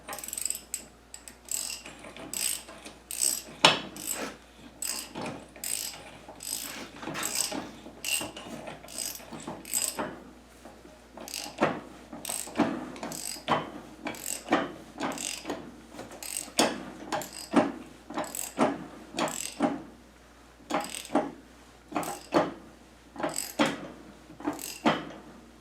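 A long breaker bar ratchets steadily as a pinion nut is tightened to crush the collapsible bearing sleeve on a Salisbury rear axle. Sharp clicks repeat in a regular rhythm throughout, close and clear, with no talk.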